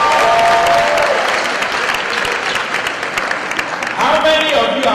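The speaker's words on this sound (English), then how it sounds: "Let's give them a big round of applause." A crowd at a Nigerian reunion gathering in Orlando, Florida bursts into loud, sustained applause that fills the whole moment, with faint voices mixed in toward the end.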